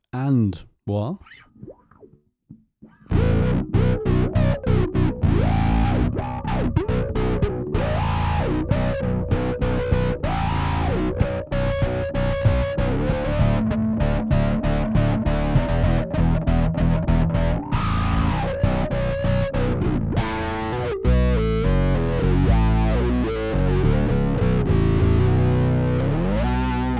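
Electric bass with a synthetic octave and sweeping wah effect plays a busy run of notes, loud and continuous after a brief quieter opening.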